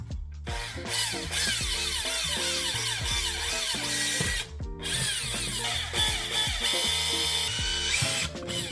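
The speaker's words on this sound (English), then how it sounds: "So we'll start with the drilling and we'll try with these." A power drill whirs in repeated bursts drilling holes in a car's license plate area, its pitch rising and falling as it spins up and slows, with mechanical rattling and a brief pause midway.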